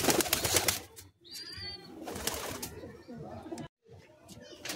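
Madrasi high-flying pigeons coo in a loft, soft throaty calls woven beneath near, ongoing speech, with brief pauses in between.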